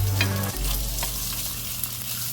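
Skirt or flank steak frying in melted butter in a pan, a steady close sizzle with a low hum and a soft shift in tone about halfway through.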